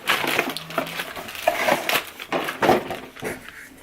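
Plastic packaging from an InstaSnow kit is pulled and unwrapped, producing close, irregular crinkling and crackling bursts with no talk over them.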